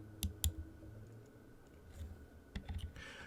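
A computer mouse clicks a link on a web page: a few sharp, close clicks in short pairs, spaced apart over a faint room hiss.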